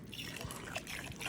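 Vinegar pours in a brief, faint trickle into a bowl of finely shredded cabbage for dumpling filling. The liquid splashes softly for about a second.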